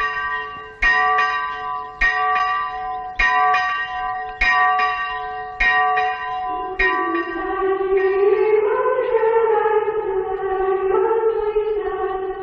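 A slow, cracked, muffled church bell tolls at steady, unhurried intervals, each stroke ringing with long reverberation before a sustained tone swells beneath the later strikes.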